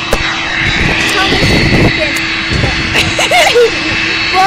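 An airliner at Manchester Airport gives a loud, continuous jet-engine roar close by, with excited voices and shouts over the noise.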